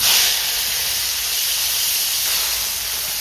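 Tomatoes hitting hot oil with whole garam masala and nigella seeds for a pabda fish poppy-seed curry, producing a loud, continuous hiss of steam that holds steady throughout, with no voices.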